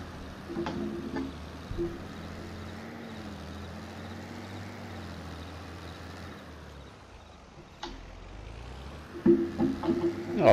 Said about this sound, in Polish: dobrze radzi ciągnik z kultywatorem